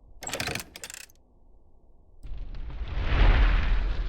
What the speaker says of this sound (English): Ooh, fire. Nice and toasty.